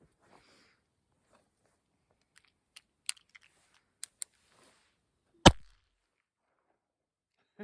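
A LIFECARD credit-card-sized gun fires a single sharp, loud shot that stands out after a few faint scattered clicks and handling taps in otherwise near silence.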